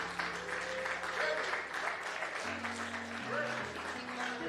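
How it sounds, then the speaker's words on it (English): Audience applause at a church gathering on justice and resistance, a steady crowd clapping held for several seconds while sustained organ or keyboard chords play underneath. "can we give another round of applause to President Z. Scott"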